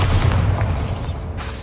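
A Bombarda spell explodes in Hogwarts Legacy, a heavy, deep boom that lands close and loud and fills the short moment with low rumble.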